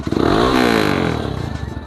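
A 250cc Motorstar Explorer 250 v2 motorcycle engine runs close by, a steady throaty idle that swells briefly as if blipped, then settles into a pulsing chug.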